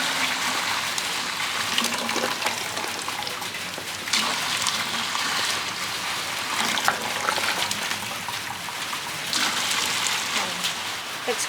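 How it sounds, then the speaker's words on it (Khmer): Boiled sugar water for a crocodile-tail syrup drink is poured through a cloth strainer, giving a steady broadband splashing and trickling that runs the whole stretch with a few louder surges. "យើងដាក់ស្បៃមកយើងត្រងណា"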